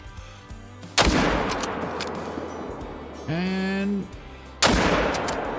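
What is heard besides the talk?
rifle shots at a buck in video game Call of the Wild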